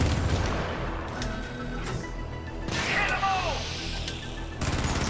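Helldivers gunfire, rapid shots and impacts in a chaotic firefight, with a bright whining streak midway and people talking over the noise.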